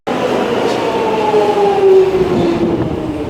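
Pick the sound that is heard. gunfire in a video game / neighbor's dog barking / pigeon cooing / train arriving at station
train arriving at station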